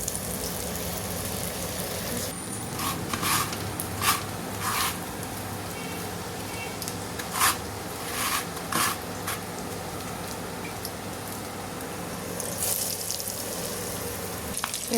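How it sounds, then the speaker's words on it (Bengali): Cheese potato balls deep frying one by one in oil, with a steady close sizzle and a few sharp crackles and clinks scattered across it, no voices. "দিয়ে একটা একটা করে ভেজে নেব"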